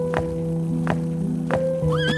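A horse whinnies near the end, its rising cry following a few sharp, evenly spaced knocks over a steady tonal background, as horses climb a slope.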